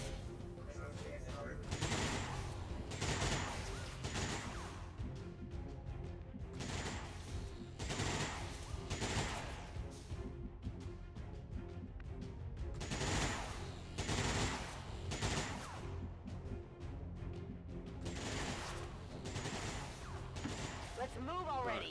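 Gunfire in the video game XCOM 2 Long War 2 rattles out in repeated automatic bursts, loud volleys separated by brief gaps, with occasional crashing impacts and a voice speaking in the background.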